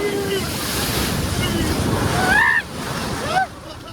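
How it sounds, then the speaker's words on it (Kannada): Sea waves wash in at a beach on the way to Mangalore, a loud rushing surf with wind buffeting the microphone, while excited voices and brief shouts rise over the water. "ಸಕ್ಕದಾಗ ಬಂತು ಅಲೆ ಅದು"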